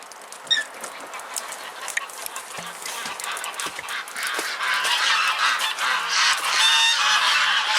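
Ducks calling out in the rain, a scattered series of honking quacks that starts sparse and builds into a denser, louder chorus over steady rainfall.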